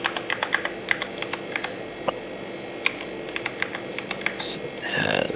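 Typing on a mechanical keyboard, a rapid, uneven run of sharp, close key clicks with a few louder strokes and a brief rustle near the end.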